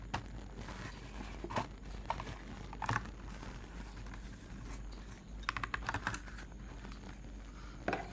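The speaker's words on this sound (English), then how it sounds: "So let's open it and see how it looks." Blister card packaging for a Ford Shelby GT350 Hot Wheels car from the Forza series being carefully peeled open, giving quiet crinkling and tapping handling sounds with a few sharper snaps, close up and without voices.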